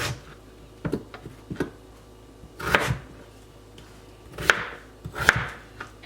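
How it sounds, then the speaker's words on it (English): Potatoes being cut into thirds with a knife on a cutting board, a series of distinct sharp chops at an irregular pace, close and clear with no talking. "ahora vamos a picar nuestras papas"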